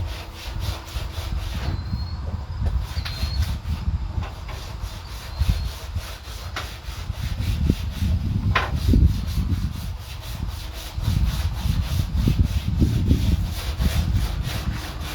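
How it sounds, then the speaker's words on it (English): Sanding on wood during a camper van build, heard as a steady, gritty rubbing that swells into repeated back-and-forth strokes of moderate loudness, with no talk. "sanding a bunch of stuff"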